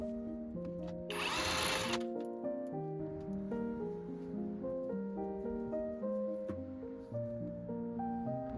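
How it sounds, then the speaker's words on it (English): A power tool whirs in one short burst, about a second long, while undoing bolts on a Rolls-Royce Silver Spirit. Steady background music runs throughout and continues on alone afterwards. "I'm just going to undo these two at the front and slide it out this way."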